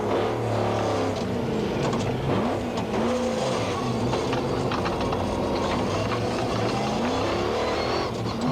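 A Jimco off-road race car with a 450 horsepower V6 engine at the Sugarbelt 400 in 2002, its loud engine drone running continuously and rising and falling in pitch as it races.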